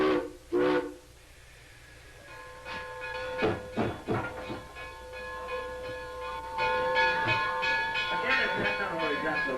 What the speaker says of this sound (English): The Bluebell, the 11 o'clock train, is now headed for Lemon Place Junction.